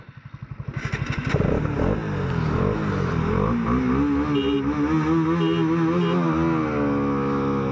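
A Yamaha R15M or Bajaj Pulsar RS 200 BS6 motorcycle with an NS sprocket, raced flat out to top speed, fires up from a low chug and revs hard with climbing pitch, then holds a loud, raw, gritty engine note close by.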